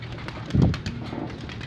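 A pigeon gives a single soft, low coo inside a loft, fairly close. A quiet, hushed background surrounds it, and no voices are heard.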